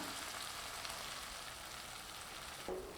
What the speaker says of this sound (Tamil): நல்லா மசிஞ்சு வர அளவுக்கு வதக்கி விட்டுக்கலாம்